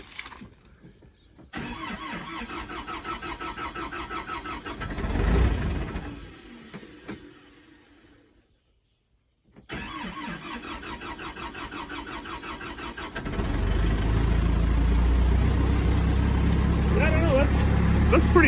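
A backhoe's diesel engine, glow plugs warmed on a chilly day, cranks, fires and settles into a loud steady idle, with a silent gap before a second start that runs on and grows louder; someone talks over parts of it.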